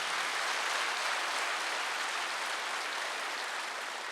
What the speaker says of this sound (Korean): 세게 쳐요, 박수요.